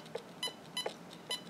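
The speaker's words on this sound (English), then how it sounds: "Gives me a beep, and basically that is to say that that is now done" An ImmersionRC Vortex racing drone gives short confirmation beeps after loading settings: four quiet, evenly spaced chirps about every half second, close by, over faint background hiss.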